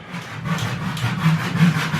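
A hand saw cuts through wood in steady back-and-forth strokes, close and moderately loud, with a rhythmic rasp and no talk.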